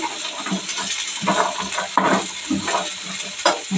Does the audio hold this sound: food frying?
yes